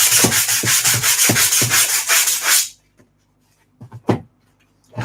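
Rhythmic back-and-forth hand sanding strokes rasp across a 3D-printed plastic surface, loud and close for a few seconds, then stop, leaving a couple of faint handling knocks.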